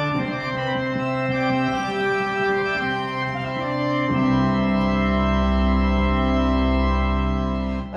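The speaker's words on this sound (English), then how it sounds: "Such as an organ sound." A Yamaha CLP-785 digital piano on its organ voice plays sustained chords with rich harmonics, shifting to a deep, loud held low chord in the second half, with hall-like reverb and no talking.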